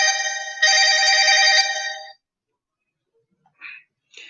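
Phone ringtone playing a song, a loud, bright melodic tune lasting about two seconds before cutting off, followed by near silence with a couple of faint short sounds.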